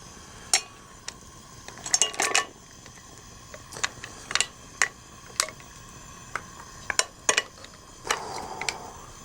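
Metal pans and serving dishes clatter on a kitchen counter in scattered sharp clinks and knocks, separated by quiet pauses.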